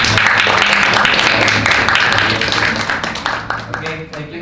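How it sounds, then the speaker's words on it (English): Audience applause at an international academic conference, a burst of many hands clapping together in a hall, steady then thinning out toward the end, with some voices underneath. "then we can give applause to"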